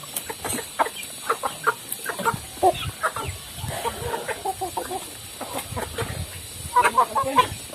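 Live chickens clucking repeatedly in short irregular bursts, close by, in a pesantren courtyard, with a steady background hum.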